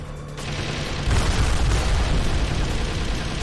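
A barrel explodes in Metal Gear Solid: The Twin Snakes, a loud, sustained boom that swells after a brief lead-in and rumbles on without fading, with no talk over it.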